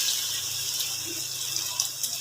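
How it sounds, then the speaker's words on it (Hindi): Strained prepared water poured into a pan of fried chicken pieces for a broth-style breakfast curry, a steady continuous splashing pour that runs unbroken through the clip at moderate level. "और अब मैंने जो ये पानी प्रिपेयर किया था इसे पूरी तरह मैं इसके अंदर छान कर ऐड कर दूँगी।"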